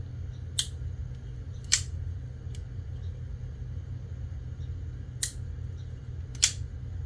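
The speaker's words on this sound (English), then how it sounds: "I like the click, the positive click at the end closing." A folding knife with a Tonto style blade snaps closed, giving several sharp, crisp lock clicks at irregular intervals over a low steady hum.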